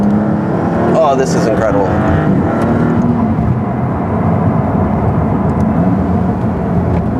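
Maserati MC20 supercar rounding a turn on a test drive, its engine a steady loud roar with road noise throughout, while a voice talks excitedly over it.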